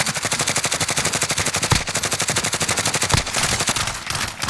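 Steady automatic gunfire in a video game shootout, a fast even stream of close, loud shots with a couple of heavier impacts mixed in, running the whole time without talk.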